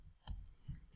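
Computer keyboard typing by a software engineer, a few quick clicks clustered around two moments, close but fairly quiet, with no talk over them.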